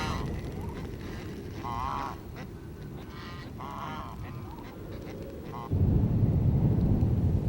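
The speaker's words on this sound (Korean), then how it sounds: "방목해서 키우는 닭과 오리들은 벌써 닭장 주변으로 모여들었다." Chickens and ducks roam free on a snowy mountain farm, gathering around a coop; several honking, quacking calls come in bursts over a steady murmur of background noise that grows louder near the end.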